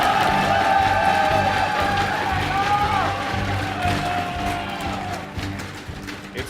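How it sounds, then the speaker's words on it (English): Crowd at a StarCraft 2 match between Jaedong and Byul cheering and applauding in a large hall, a broad continuous roar under a caster's talking that slowly fades. "Give a cheer for Jaedong."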